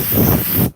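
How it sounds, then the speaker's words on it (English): An aerosol can of bug spray releases one steady, loud hiss for most of a second, then cuts off abruptly to near silence. "I got some air and I got some bug spray"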